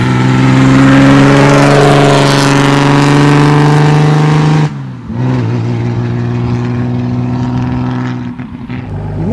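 A 1936 Wanderer W25K roadster engine drives and revs loudly up close, a strong sustained drone that drops sharply midway and then continues at a lower, rougher pitch before easing off.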